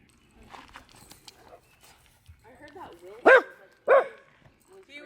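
Two sharp, loud dog barks ring out close by on a farm property, spaced under a second apart, while people chat and murmur in the background.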